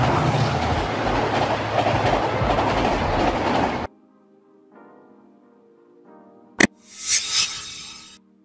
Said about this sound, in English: Diesel locomotive.